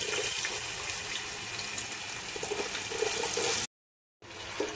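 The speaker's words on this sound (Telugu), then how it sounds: "ఇప్పుడు దీంట్లో ఆలుగడ్డ ముక్కలు వేసుకోవాలి." Potato pieces go into hot oil already seasoned with dried red chillies and tempering seeds for a Telugu-style potato fry, producing a loud, steady hissing sizzle that cuts out briefly near the end before resuming.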